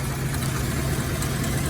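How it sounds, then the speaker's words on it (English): A 1947 Packard Super Clipper's engine idling at close range, a steady, even low rumble with no talk over it. "Engine sounds nice."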